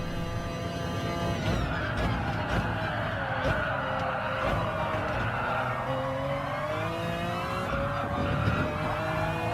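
Race cars lap Interlagos in Gran Turismo Sport, a McLaren F1 GTR among them, chasing a Ferrari. A steady, loud engine drone with shifting pitch runs the whole time, with brief tyre squeals layered over it.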